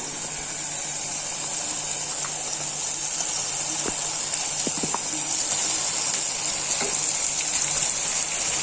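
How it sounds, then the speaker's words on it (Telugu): Chicken pieces fry in a pan of tomato-onion masala with a continuous hissing sizzle and faint scrapes of stirring, steady and close, no voices over it. "ఇప్పుడు దీంట్లోనే కడిగి పెట్టుకున్న ఈ చికెన్ ముక్కలు వేసేద్దాము"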